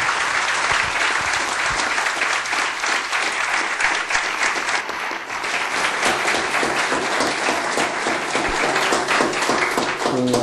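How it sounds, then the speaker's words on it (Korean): At a CEO lecture for university students at Yonsei, an audience gives sustained applause welcoming Yoon Yong-ro, chief executive of Industrial Bank of Korea. The clapping is thick and continuous, loud and close throughout, with a few faint voices mixed in. "여러분 박수로 행장님 맞이해 주시죠."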